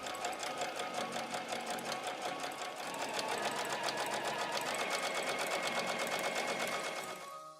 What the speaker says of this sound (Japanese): この部分をミシンで同じようにして縫っていきます。